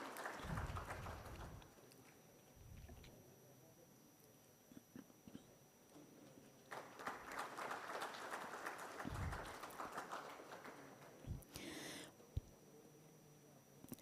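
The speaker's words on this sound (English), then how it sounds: "Once again, a round of applause." An audience at a heavy haul seminar breaks into scattered applause in several separate bursts, fairly distant and faint in a large room, with quiet gaps and a few sharp knocks between the rounds.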